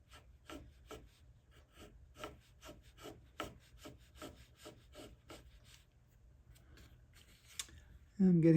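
A short-handled Marples chisel pares the wooden top braces of a guitar in a steady series of soft, scraping strokes, quiet and close, fading into lighter scrapes before a sudden louder bump at the end.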